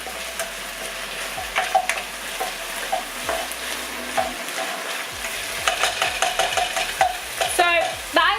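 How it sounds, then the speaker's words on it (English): Zucchini noodles tossed in a hot pan with cooked bacon, onions and butter, giving a continuous frying sizzle broken by repeated clattering, scraping strokes of a utensil, close and loud. "So what I might do is just toss through these zoodles."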